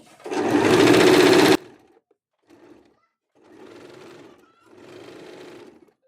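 Sewing machine stitching a double-folded sleeve edge on a kurti: one loud continuous run, then three shorter, softer bursts of stitching separated by pauses.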